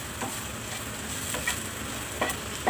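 Turmeric powder frying in a pan for coriander-leaf bhorta, a steady close sizzle with a few sharper stirring scrapes and spatters, no voices.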